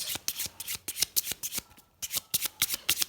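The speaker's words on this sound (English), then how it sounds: "So you can give any kinds of shuffle, overhand shuffle, you can do cuts." A deck of playing cards is shuffled overhand, giving quick, crisp riffling bursts in a steady rhythm, close and clear, with one brief pause midway before the rapid flicks resume.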